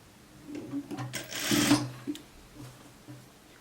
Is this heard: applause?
no